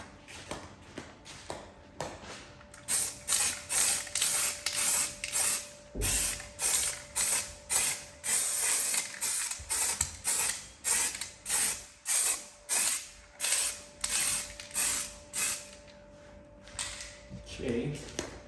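Spray paint hisses in quick repeated bursts onto a Giganotosaurus dinosaur toy during a custom repaint, a rhythmic series of close, loud sprays with a faint hum beneath and someone talking briefly.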